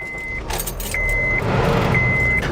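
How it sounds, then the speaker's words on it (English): A Honda Civic starts up from inside the cabin: the engine turns over and settles into a low idle while a dashboard chime beeps repeatedly, close and clear. "I'm going to start the car up"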